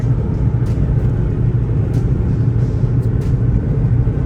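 A car drives along a highway on a rainy day, and from inside the cabin a loud, constant low road rumble and engine drone carry on steadily with no talking.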